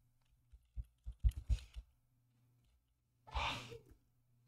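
A short series of quiet clicks and shuffling sounds leads into one brief, breathy sneeze, fairly close and soft, with no talking.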